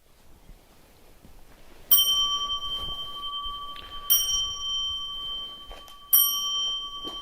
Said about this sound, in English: 3 bells, please.